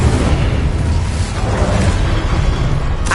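An Incendio fire spell is cast in Hogwarts Legacy, releasing a loud, roaring burst of flame that rushes and crackles steadily throughout, ending in a brief bright flare.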